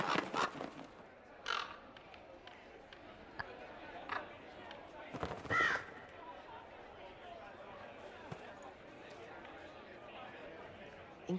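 Crows cawing in the video game Dragon Age Inquisition, a few harsh caws scattered over a quiet outdoor ambience with faint chatter in the background.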